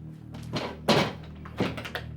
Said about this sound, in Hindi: दरवाजा क्यों बंद कर दिया बेटा?